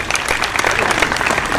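Dense, steady applause from a mushaira audience (an All India Mushaira poetry gathering), many hands clapping together, loud and sustained throughout.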